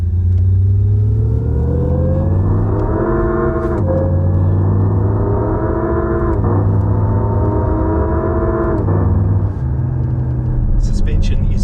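Synthetic BEV engine sound from a Lexus RZ electric car, piped through the audio system to mimic a combustion engine: repeated rising tones that climb like gear changes, then drop and climb again, steady and prominent inside the cabin.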